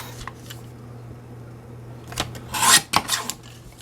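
Paper envelope being cut apart to remove its open back flap, with a few quick rasping snips and crinkles bunched together late on, fairly close over a steady low hum and no talking.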